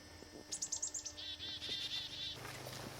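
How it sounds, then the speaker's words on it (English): Birds in a wooded creek area call out, disturbed by people nearby: a quick run of sharp chirps followed by warbling, fluttering notes over a faint insect hum, fairly close and alone without talk. "A number of birds that don't appreciate our presence here."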